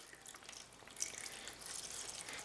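Water trickles and splashes softly into a seed-starting tray being filled for bottom watering, a faint continuous pour with light dripping.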